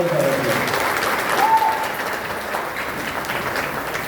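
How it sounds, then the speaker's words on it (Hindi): Loud, dense applause from a large audience at a direct-selling business event in India, a steady roar of clapping filling the whole few seconds with a brief swell midway. "इसलिए जोरदार जोरदार जोरदार तालियों के साथ"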